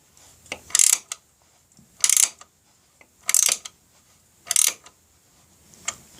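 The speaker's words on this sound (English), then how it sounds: "I'm glad I'm using a ratchet." A hand ratchet turning a bolt on a homemade rectifier bracket, four distinct bursts of rapid clicking at a steady pace, close and clear, with a faint fifth at the end.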